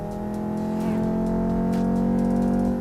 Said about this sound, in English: this sounds very much like a Volvo S60R, the 5-cylinder roar